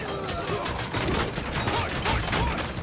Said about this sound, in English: Oh, that's the assault rifle.